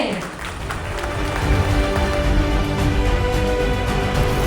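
An audience at an infotech forum awards event applauds steadily, a dense sustained wash of clapping that runs loud and unbroken throughout.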